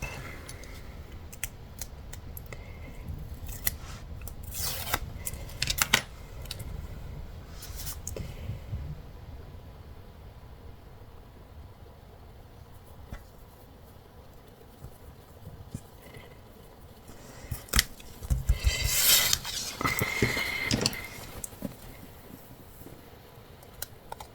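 Scissors snipping paper for a vintage scrapbooking card, a series of close, crisp cuts in uneven bursts, with handling rustles between them and a denser flurry of snips near the end.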